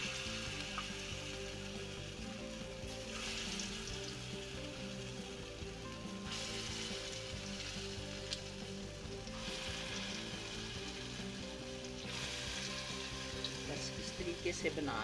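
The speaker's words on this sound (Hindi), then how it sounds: "इसलिए हम तवे पे तल रही हैं ताकि इसके फैल के बने" Lentil wadiyan frying on a tawa griddle sizzle steadily and close for the whole stretch, with occasional stirring and faint background voices under the crackle.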